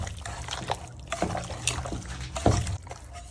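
Chicken pieces being mixed by hand with a generous ginger-garlic paste marinade for KFC-style fried chicken: close, wet squelching and sloshing in uneven bursts, with one louder squish near the end.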